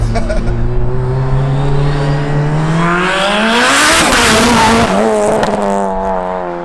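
A 1000whp Mitsubishi Evo 9 with a sequential manual gearbox and a turbocharged four-cylinder accelerates hard, its loud engine note climbing steeply in pitch and then dropping sharply at a gear change before pulling again, heard from inside the car.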